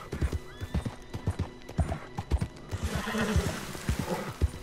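Rhythmic hoofbeats clop steadily at a gallop in Red Dead Redemption 2, with a horse whinnying briefly early on, fairly close and continuous throughout.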